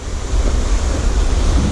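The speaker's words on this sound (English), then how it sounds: "See them swells coming in?" Ocean swells roll in and break against a rocky coastal fishing spot, making a loud, continuous low roar mixed with gusting wind noise on the microphone.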